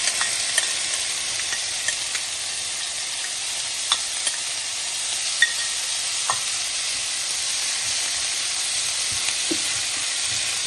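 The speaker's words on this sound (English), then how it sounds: "And so now the grated ginger is going in." Grated ginger fries in a small amount of oil, a loud steady close sizzle with faint occasional pops and no talking.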